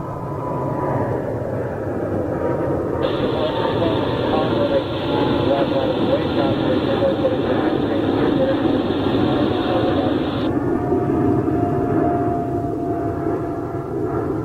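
A jet airliner takes off near a home, its engine roar broad and steady for the whole stretch, with a sustained high whine joining in the middle and people talking over it.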